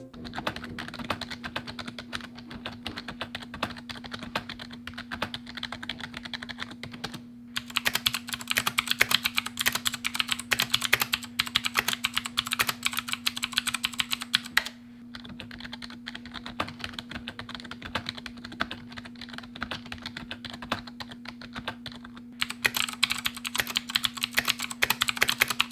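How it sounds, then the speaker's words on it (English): Someone types steadily on a SteelSeries Apex 3 keyboard, producing soft, rapid key clicks in bursts separated by brief pauses, close up over a faint constant hum. "the clicking feels good, so you're not gonna miss a lot from the other mechanical keyboards, except for the sound"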